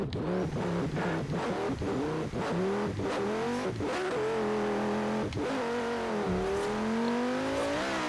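Lamborghini engine revving in a racing video game, a steady loud drone with rising and falling harmonic pitch sweeps as the revs climb and settle repeatedly, continuous throughout.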